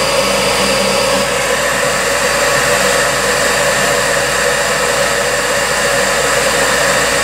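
The inducer blower of a York gas furnace runs with a loud, steady whirring hum and broadband air rush that holds constant throughout, with no talking.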